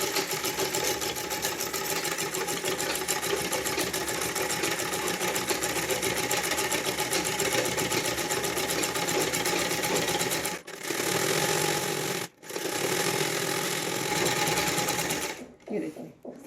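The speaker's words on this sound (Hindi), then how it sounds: "यहाँ पर कोने पर सिलाई लगाएंगे, एकदम कोने पर।" A sewing machine runs steadily and loud as it stitches the neck strip of a plain frock, with two brief pauses near the end before it stops.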